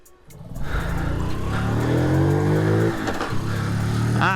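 A 2010 Honda Little Cub 50 motorcycle pulls away close by, its small engine revving and rising steadily in pitch as it gets up to speed, loud with no talking.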